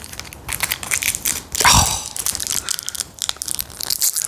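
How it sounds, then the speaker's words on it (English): A small plastic bag of screws for an RC rock crawler bash plate is crinkled and torn open, a sharp burst of crunching plastic rising briefly above softer rustling handling noise. "I hate it when companies make these little plastic bags really hard to get into."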